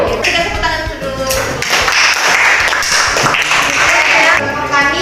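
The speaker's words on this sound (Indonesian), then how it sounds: "Kita tepuk tangan dulu." Classroom clapping during a mathematics lesson, loud, dense hand claps from a group of students close by, continuous for about five seconds with uneven rhythm and busy room noise.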